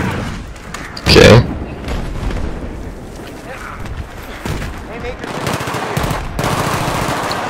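Automatic gunfire in the video game Battlefield 3, a loud burst about a second in, then sustained game combat noise with players talking over it.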